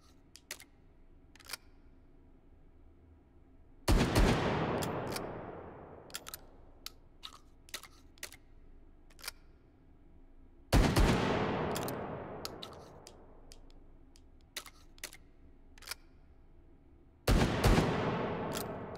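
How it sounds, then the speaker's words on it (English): Three loud shotgun blasts, each with a long decaying tail, fired in the VR shooter Hot Dogs, Horseshoes & Hand Grenades, separated by quieter mechanical clicks and clacks of the break-action gun being handled. "It's a shotgun."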